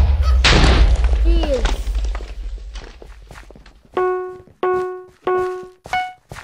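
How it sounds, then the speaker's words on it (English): Explosions in a Minecraft Egg Wars match, a loud burst and rumble early on followed by a row of sharp blocky game hits, with a player briefly exclaiming. "Oh, I died from explosions."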